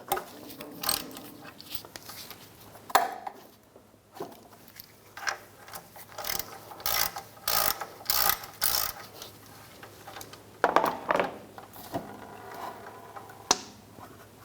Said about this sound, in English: Loosen up the drain plug.